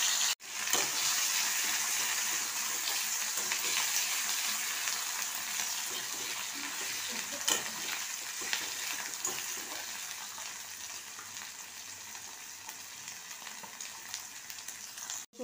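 Garlic, ginger paste and tomato fry in a pan with a steady, even sizzle lasting about fifteen seconds, with faint stirring clicks and no voices.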